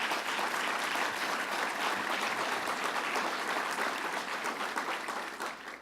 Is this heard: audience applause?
yes